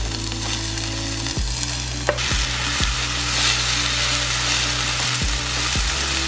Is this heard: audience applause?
no